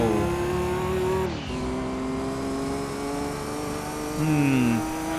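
Honda NSX race car engine in Gran Turismo 2 on the Apricot Hill circuit, a sustained high whine with gear shifts dropping and climbing pitch, plus a second car's engine rising near the end.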